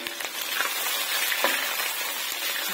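Onion and green chillies fry in hot oil in a pan for chow mein, a steady, close, bright sizzle with a few soft crackles and no voices.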